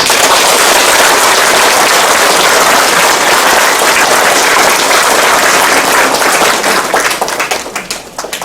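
A crowd applauds loudly at a ceremony where a mayor, marking his second anniversary in office, receives a bouquet. The dense, continuous clapping fills the space and thins out toward the end.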